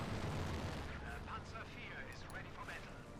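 An aircraft strafing run rakes the ground in Company of Heroes 2, a steady rumbling barrage of distant gunfire and blasts under a commentator's voice.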